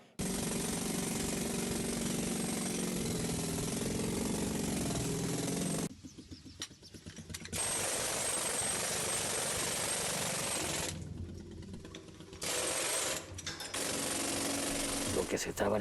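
Miners run a breaker hammer into hard rock underground, loud continuous rapid pounding in long bursts, broken by two short pauses, with a voice faintly underneath.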